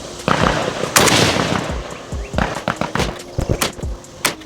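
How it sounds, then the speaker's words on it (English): Five rifle shots from an AK fitted with a red dot sight crack out at an outdoor range, loud sharp reports spaced roughly evenly with echoing decay between them. "Okay, I felt pretty good about those 5 shots."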